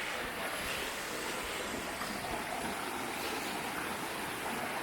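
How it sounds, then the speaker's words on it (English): A small curving woodland waterfall pours down a stream past fallen trees, making a steady, dense rushing wash that stays even and close throughout with no voices. "we found this nice little curvy waterfall, which is flowing from up here all the way down"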